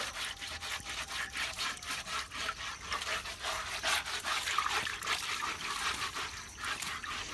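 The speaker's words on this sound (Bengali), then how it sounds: "তো চলো ঘষে ঘষে পরিষ্কার করা যাক।" Scrubbing algae off the inside of a small fish pond by hand makes rhythmic rasping strokes, one after another at a quick, even pace, close and fairly loud with a faint trickle of water.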